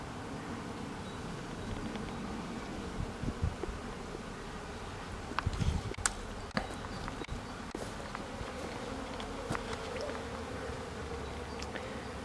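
Honey bees in an apiary flying back to the hive carrying pollen, a steady close buzz of many bees with individual insects zipping past the microphone and occasional light knocks.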